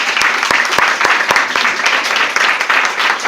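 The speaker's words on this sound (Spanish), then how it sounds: "te recibimos con un aplauso" Loud audience applause greets a speaker at a talk, a thick continuous roll of clapping with several sharp, close individual claps punctuating it.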